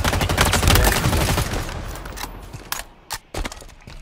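Pistol fire in the video game Halo Infinite, a dense, loud run of close shots that thins into a few separate cracks, with no talk over it.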